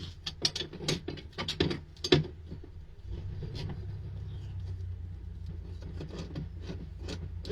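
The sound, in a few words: socket wrench loosening a trailer tongue jack bolt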